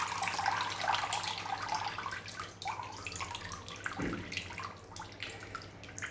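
Water pours from a can or jug over potted plants, a continuous splashing trickle that varies in strength and lasts several seconds with no talking.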